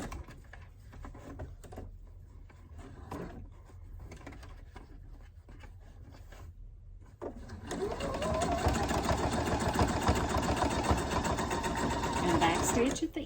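A sewing machine backstitches at the start of a fabric seam for a wristlet key holder, starting up after quiet talk and then running as a steady, loud mechanical whir for several seconds.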